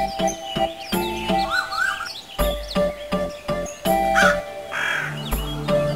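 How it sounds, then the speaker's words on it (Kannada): Cartoon crows caw repeatedly in a kids' animation, harsh calls stacked close together over bright chirps and a musical backdrop, loud and busy throughout. "ಕಾಗೆಗಳು ಅವಳನ್ನ ಓಡಿಸ್ತಿದ್ದಾರೆ."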